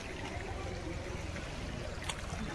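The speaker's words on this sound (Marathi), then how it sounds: "ही बघा ही आमची नदी असा या पूल असा खेरवाडी नदी" River water flows continuously beneath a bridge on the Kherwadi river, giving a steady, even rushing wash with no breaks.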